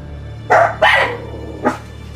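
A dog barks three times close by, two quick barks followed by a softer single bark after a pause, over a low steady hum.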